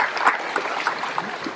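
Audience clapping for the sound engineer at the Malestroit Pardon gathering of motorhome campers, a dense steady patter of many hands lasting under two seconds at moderate volume.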